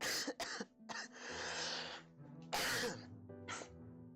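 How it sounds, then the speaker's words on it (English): Several harsh, close coughs burst out in quick succession, with a throat-clearing rasp between them, loud and alone. "this cough I've had for like a while"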